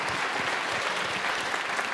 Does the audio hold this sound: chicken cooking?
no